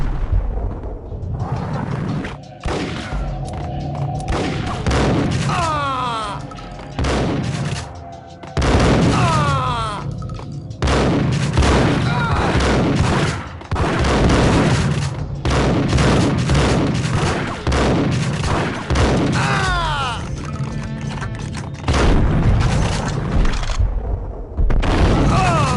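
Heavy gunfire and explosions in Max Payne on PS2, loud repeated volleys of shots mixed with deep booms and blasts, nearly continuous with brief lulls, voices shouting amid the shooting.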